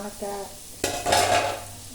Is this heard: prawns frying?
yes